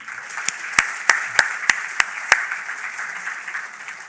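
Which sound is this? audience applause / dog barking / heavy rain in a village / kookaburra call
audience applause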